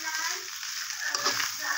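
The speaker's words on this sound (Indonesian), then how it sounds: "Goreng nasi guys" Nasi goreng with mustard greens fries in a hot pan, a loud, steady sizzle with scraping stirs running throughout, close up and without speech.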